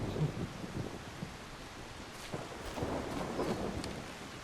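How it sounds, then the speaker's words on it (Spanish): A thunderstorm with rain in the video game Solarpunk: a soft continuous rain hiss with low rolling thunder rumbles swelling midway, fairly faint and steady, without speech. "ahora se puso a llover, entonces. Y es nuestra primera tormenta."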